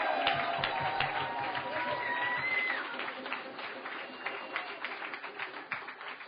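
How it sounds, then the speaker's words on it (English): An audience applauds at the Canadian launch of the International Year of Co-operatives, a spread-out round of clapping with some faint voices mixed in, fading somewhat toward the end. "let's give them another round of applause."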